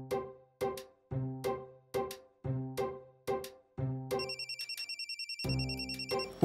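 A phone rings with repeated chiming bursts for an incoming call, followed by a short burst of fast electronic ringtone beeps and a brief tone at the end, loud and close with no talking.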